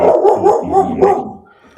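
Several dogs barking loudly and close by in a quick irregular burst of about five barks, trailing off into quieter yips at the end.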